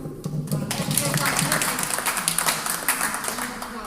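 A crowd at an Algerian cultural coffee-talk gathering claps for a female artist, the scattered hand claps building into fuller applause over a few seconds, with a voice faintly present at the start.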